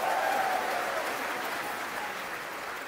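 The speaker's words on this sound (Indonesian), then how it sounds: "Boleh beri tepuk tangan untuk Ubah Bareng." A crowd at a public gathering applauds in a soft, steady patter of clapping that fades slightly as it goes on, with no voices over it.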